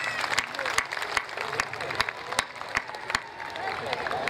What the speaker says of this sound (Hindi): उनके लिए एक बार तालियां बजाएं।